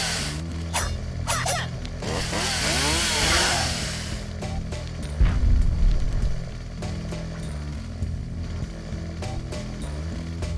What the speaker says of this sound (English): I got a chainsaw arm?